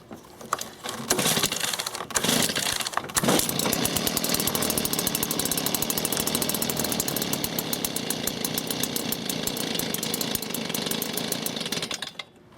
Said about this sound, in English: Flip the choke off, give her a pull,